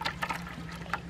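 A thin stream of spring water trickles out of a hose, a faint, brief splashing patter heard alone without talk.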